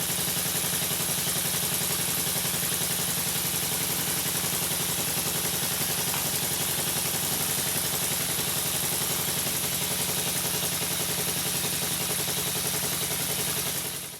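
A Stuart triple expansion miniature steam engine runs on compressed air, giving off a loud, steady hiss with a fine rapid chuffing texture that continues unbroken for the whole stretch before cutting off, with no voices.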